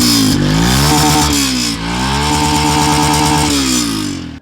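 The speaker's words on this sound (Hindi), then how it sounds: "तो दोस्तों अब टाइम आ चुका है आपको इसके इंजन की आवाज़ सुनाने का" A Yamaha FZX street motorcycle engine runs close and loud, a steady thrumming idle that swells with a couple of blips of the throttle, heard alone without talk.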